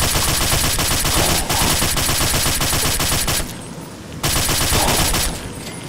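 Sustained automatic gunfire from the video game Fallout 3 rattles loudly in dense rapid bursts, broken by brief pauses, with no speech over it.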